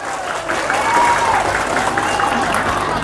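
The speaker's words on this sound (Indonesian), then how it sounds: "Kalau begitu tepuk tangan untuk Al-Mujtahid semuanya." Applause from an audience of Islamic boarding school students in Indonesia, a dense wash of clapping that swells and holds steady for a few seconds, with some crowd voices mixed in.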